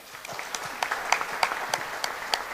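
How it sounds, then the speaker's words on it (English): An audience at an entrepreneurs' conference claps steadily, with a dense patter of hands and a few sharper claps standing out, at moderate loudness. "A round of applause for Mr. Mutizwa."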